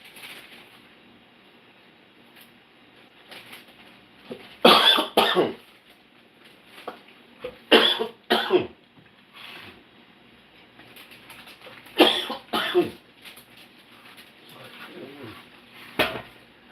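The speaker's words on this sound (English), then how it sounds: "I have cough. I need to cough." Several harsh coughs come in clusters, close by, separated by quiet stretches with faint background hum.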